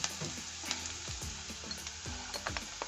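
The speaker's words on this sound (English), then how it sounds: "To our hot pan, we add the onions." Onions fry in a hot pan with a close, continuous crackling sizzle and repeated light stirring scrapes.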